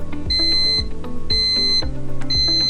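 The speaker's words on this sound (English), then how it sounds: "Press it once again and that will reactivate the alarms." An AccuTherm 8002 vaccine temperature data logger's audible alarm sounds close and loud in three repeating bursts of sharp electronic beeping, each burst opening with a soft thump. No one speaks.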